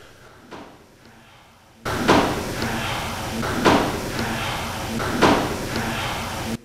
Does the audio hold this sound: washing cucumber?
no